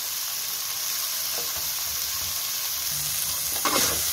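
Carrots, cabbage, beans and capsicum fry in hot oil for chicken fried rice, a steady close sizzle with faint stirring scrapes toward the end and no talk.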